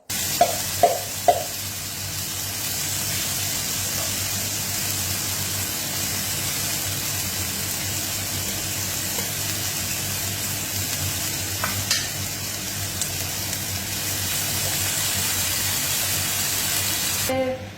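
Two cans of tomatoes tipped into a pot over three cloves of garlic for couscous, a few clunks at the start and then a steady sizzling, bubbling simmer that carries on close by throughout.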